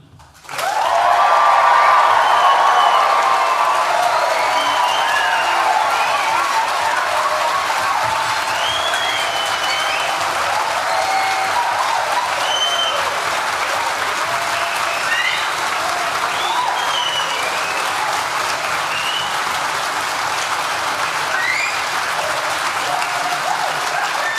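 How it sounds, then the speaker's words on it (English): Graduation ceremony audience in a hall bursting into loud, sustained applause and cheering that starts abruptly and holds steady for the full stretch, dense clapping with scattered whoops throughout. "when I say 3, make as much noise as you want to, 30 seconds to celebrate your success"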